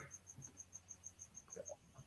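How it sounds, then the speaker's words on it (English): A single cricket chirps steadily nearby, a regular run of about twelve short, even pulses, faint and quiet against a low room hum, with a soft voice murmuring briefly underneath near the end. "the cricket's still there, this bloody cricket"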